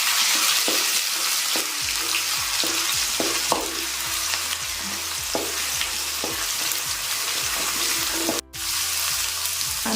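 Homemade ginger paste sizzles in hot oil for a fish curry, giving a continuous loud fry with repeated stirring scrapes and clinks of a utensil in the pan, and no talking.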